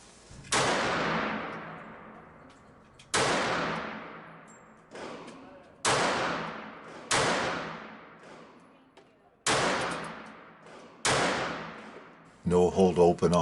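Six loud, evenly spaced shots from a Kel-Tec P-3AT .380 ACP semi-automatic pistol, fired at an 18-foot target on a range, each crack followed by a ringing decay, then a short burst of clatter at the end.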